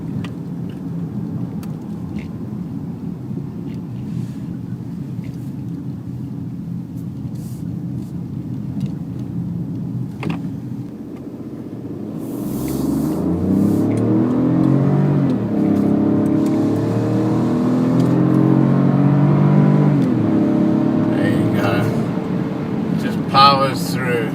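Peugeot 2008 compact SUV with a 1.2 engine, a steady low drone of the motor that rises and swells into a fuller revving note about halfway through, heard from inside the car with some speech over it.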